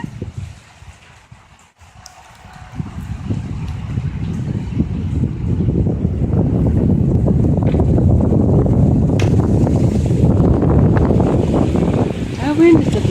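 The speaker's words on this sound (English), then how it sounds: "That wind is blowing. It's coming right through my house." Strong wind roars through a house on a rainy, stormy morning with ponies nearby, a steady rumbling gust that swells and stays loud throughout.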